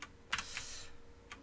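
Fast keystrokes on a computer keyboard during a programming class, a few sharp clicks in quick bursts close to the microphone, with a short pause before a last tap; no talking.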